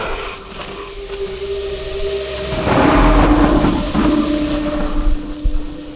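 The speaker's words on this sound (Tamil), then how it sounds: "இடி" Thunder in a thunderstorm for a Tamil drama, with steady rain hissing throughout as a deep rumble swells in the middle and rolls on for several seconds, loud and close.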